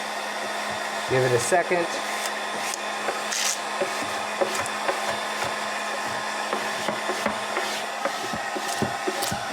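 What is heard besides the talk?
heat gun warming vinyl wrap film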